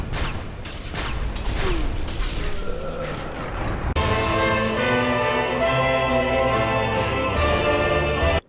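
A wooden ladder in Dark Souls is kicked down and drops with a loud mechanical clatter, creaking and crashing, then gives way to a sustained, dense game ambience or music.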